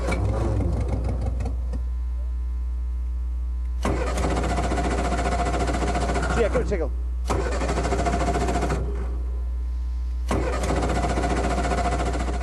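A motorbike engine fitted to a home-built power boat is cranked repeatedly and fails to catch, with bursts of starter churning separated by short pauses, while someone talks over it.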